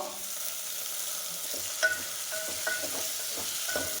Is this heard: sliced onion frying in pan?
yes